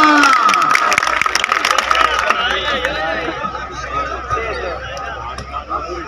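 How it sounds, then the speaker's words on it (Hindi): Spectators at a stadium event in Dera clap and cheer loudly, the roar strongest at first and then settling into busy crowd chatter with scattered whoops and laughter. "खुशामद में जोरदार तालियां।"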